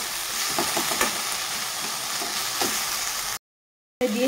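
Vegetables and tomato stir-fried in a pan, a steady loud sizzle broken by scraping spatula strokes, then a brief silence before the frying resumes.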